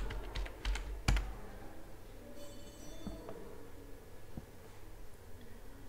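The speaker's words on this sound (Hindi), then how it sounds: "टाइप करते हैं क्रुतिदेव फॉन्ट" Someone types on a computer keyboard: a quick burst of close key clicks and a heavier keystroke in the first second, then sparse, lighter taps over a quiet room background.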